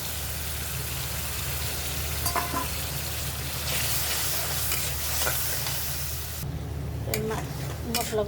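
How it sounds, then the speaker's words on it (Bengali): Soaked spices sizzling in hot oil in a wok while being stirred, a continuous close frying hiss with occasional utensil scrapes and a brief quieter pause near the end. "মশলাগুলো ভালোভাবে কষাই নিব।"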